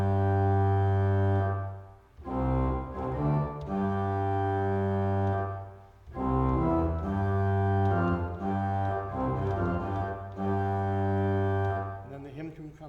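Pipe organ from a toccata on the chorale Wachet auf, ruft uns die Stimme: deep, sustained pedal notes state the hymn's opening phrase in long held tones under lighter manual chords, phrases separated by brief swells and pauses, with no talking.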